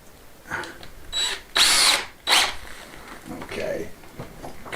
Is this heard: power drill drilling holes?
yes